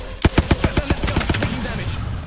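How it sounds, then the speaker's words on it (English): Rapid automatic gunfire in a first-person shooter video game, a burst of about ten sharp evenly spaced shots that fades into rattling background noise. "Getting shot at."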